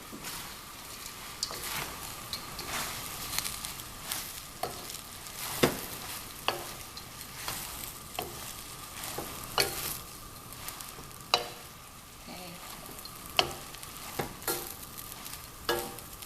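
Pad thai noodles with peanuts tossed in a hot pan, giving a steady sizzle broken by repeated stirring scrapes and soft knocks, close by, with no one talking.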